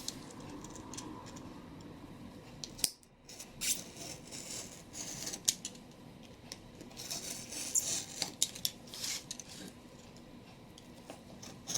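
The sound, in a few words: cutting thin cardboard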